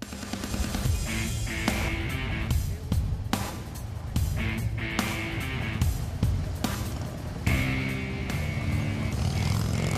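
Gainesville Police Department motorcycles rev and rumble nearby during a training session in a busy, continuous mix, with several bikes shifting pitch as they accelerate and slow.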